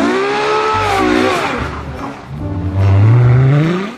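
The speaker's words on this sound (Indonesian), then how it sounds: "lihat teman-teman, ada mobil Lamborghini" Toy Lamborghini car sound effect, loud revving with rising and falling engine whines and a tire-squeal sweep, close and prominent.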